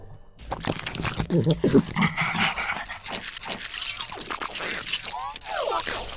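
Wet, snarling Flood infection form growls and gurgling shrieks from the video game Halo 3, loud and continuous, with raspy chattering bursts and a rising squeal near the end.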